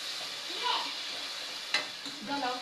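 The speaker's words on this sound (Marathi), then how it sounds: "हा मसाला एकदम जेंटली फ्राय करायचा आहे" Masala frying gently in oil: a soft, steady sizzle with faint stirring scrapes and one brief clink of a utensil, heard close but quietly, with no speech over it.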